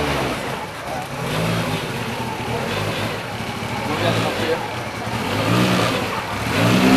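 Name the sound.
Group B classic rally car engine revving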